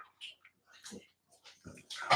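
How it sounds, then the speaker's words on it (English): Dogs hovering for food give faint, intermittent whimpers and whines, with short pauses between bursts and a louder cry near the end, while a person's voice is briefly heard nearby. "the dogs are going to have me dinner in a minute"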